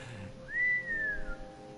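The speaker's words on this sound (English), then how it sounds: "Just keep whistling and that aurora will..." A single human whistle, set against a Never Alone video game scene: one rising then sustained, gently falling note lasting about a second, clear and moderately loud over a soft background bed.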